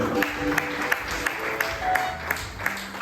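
A church congregation applauding during a service, a steady crowd of clapping with regular louder beats that give it a rhythmic pulse.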